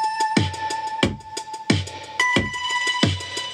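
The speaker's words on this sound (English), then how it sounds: "And it's a bell. It sounds like this. This is an M1 preset." An M1 preset bell synth plays a repeating pattern of bright metallic bell tones, each struck note ringing with a sharp attack and short decay, clear and close with no other sounds.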